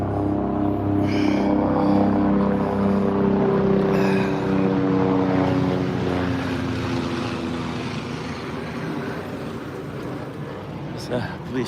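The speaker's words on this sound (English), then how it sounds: "Police chopper heading to the scene of something." A low, droning rotor and engine sound of a police helicopter passes steadily overhead, loudest early and slowly fading into the distance.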